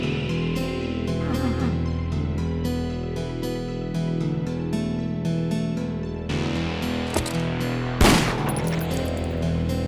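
Gunshots in the Ashes 2063 video game crack out against a steady, tonal music bed, with a few sharp reports and one louder blast near the end; no one speaks.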